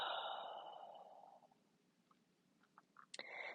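A slow, audible exhale during yoga breathing for headache relief, a soft airy breath that fades over about a second and a half, followed by quiet and a few small rustles.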